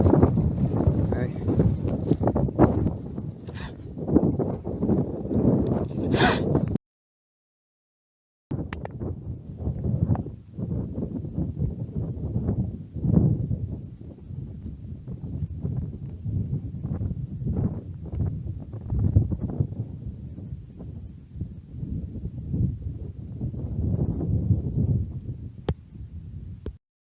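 Wind buffeting the microphone on an iron age hillfort hilltop by a trig point, a loud continuous low rumble in gusts with a brief drop-out, and a person talking over it.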